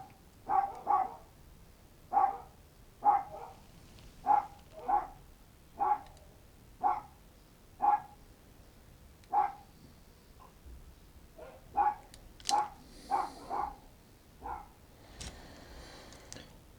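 A dog barks insistently indoors, around a dozen or more sharp barks in an uneven rhythm with short pauses between them, fairly close and heard on its own without speech.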